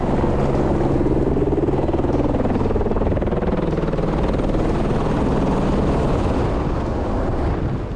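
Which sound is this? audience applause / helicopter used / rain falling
helicopter used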